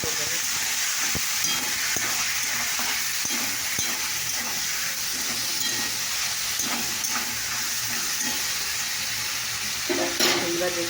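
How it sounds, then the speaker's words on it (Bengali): Food seasoned with salt and turmeric sizzles steadily in a pan as it is stirred, a constant close frying hiss with occasional soft scrapes and clinks throughout. "এবার আমি নাড়াচাড়া করবো"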